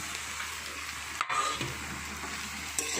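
Drumstick flowers being stirred into a hot frying pan, a soft steady sizzle with scraping utensil strokes and a few clicks, fairly quiet and close, no speech.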